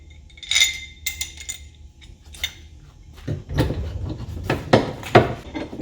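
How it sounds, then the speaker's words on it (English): A metal skid plate support bracket and factory bolts clink and clatter as they are handled, sparse bright taps early, then a denser run of knocks and scrapes toward the end, close and moderately loud. "So now we're gonna put in this skid plate support bracket."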